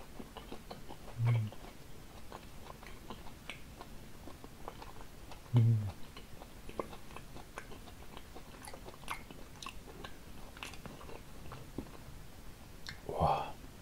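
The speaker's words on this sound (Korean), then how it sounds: "그럼 맛있게 먹어보겠습니다" Someone eats spicy stir-fried octopus and grilled beef intestine up close. The sounds are soft, wet chewing and bites at an even pace, with a few louder crunchy bites standing out.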